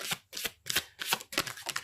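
Tarot cards being shuffled by hand in quick riffling bursts, about six short papery flurries in under two seconds, close and fairly quiet, with no talking.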